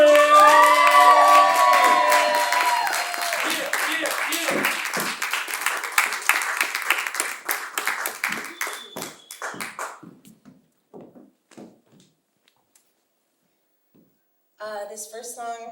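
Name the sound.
audience applause and cheering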